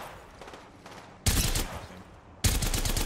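Two loud bursts of rapid gunfire in the battle royale game Apex Legends, each lasting over a second, cutting in over quieter background game noise with faint intermittent shots.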